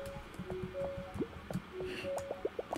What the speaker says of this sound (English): A bubbling pot of seafood stew.